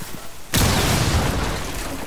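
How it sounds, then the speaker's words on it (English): A wall-breaching explosion in Rainbow Six Siege goes off as one sudden loud boom, followed by a long, roaring debris tail that slowly fades. "They made a hole in the wall."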